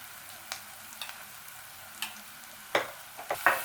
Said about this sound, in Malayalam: ഇനി ഞാൻ ആ സവോള ഇതിലിട്ട് ഒന്ന് വഴറ്റാൻ പോവുകയാണ്